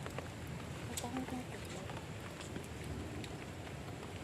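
Steady rain patters and hisses continuously at a low, even level at a campsite in a rural field, with faint scattered drops.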